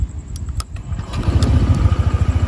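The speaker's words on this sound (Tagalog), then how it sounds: "I-on muna natin yung makina for a while." A Honda ADV 160 motorcycle engine cranks with a few short sharp clicks, then catches and settles into a close, steady, low, throbbing idle.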